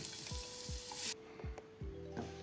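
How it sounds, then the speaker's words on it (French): Garlic frying with ketchup in a pan for a sauce gives a steady broadband sizzle, broken by several low stirring knocks and clatters. One bright burst of hiss stops abruptly partway through, and no one speaks. "on va frire l'ail avec du ketchup"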